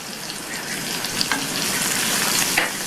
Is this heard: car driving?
no